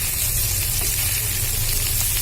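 Surma fish frying with spices in a pan, a steady close crackling sizzle with bubbling, fairly loud and continuous with no speech.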